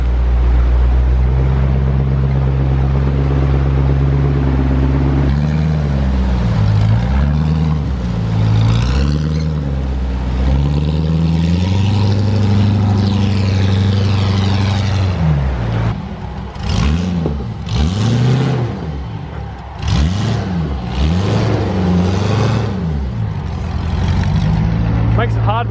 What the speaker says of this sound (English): Makes it hard when the truck won't idle.